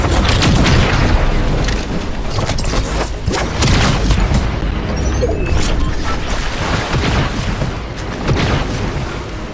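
Explosive booms and bursts of gunfire in the video game Fortnite, including a thrown bomb going off at a tower, dense and loud throughout with repeated blasts.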